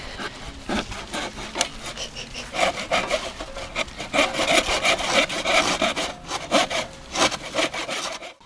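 A hand saw with dull blades rasps back and forth through wet wood in steady strokes, close and fairly loud, with no talking.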